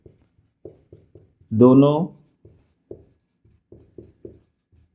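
A pen or pencil scratches across paper in short, scattered strokes while a probability problem is worked out, with one brief spoken word in the middle.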